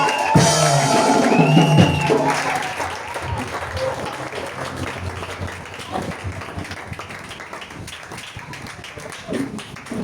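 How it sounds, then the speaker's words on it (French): A church congregation gives acclamation for a reverend pastor, loud voices and singing at first giving way to scattered clapping and crowd noise that continues under people talking. "C'est une acclamation s'il vous plaît"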